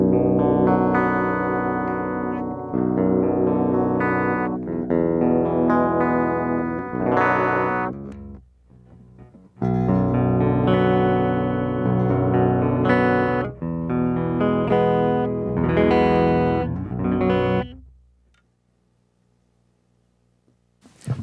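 An LTD Viper 201B electric guitar played through a clean tone rings out in strummed chords and picked notes for about seventeen seconds, pausing briefly midway and then falling to near silence.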